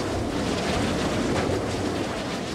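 Strong wind roars and buffets the microphone continuously on a hilltop called Windy Hill, a loud broad rush with no pauses and no speech.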